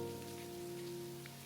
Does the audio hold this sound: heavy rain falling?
yes